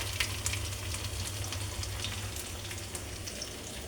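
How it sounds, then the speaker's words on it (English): Kebabs fry in a pan with a steady, close hiss of sizzling fat and a low hum beneath it, continuous and even with no voices. "And those kebabs are cooking."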